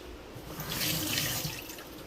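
Tap water runs steadily into a sink as a lime is washed under it, a continuous close splashing rush with no voices.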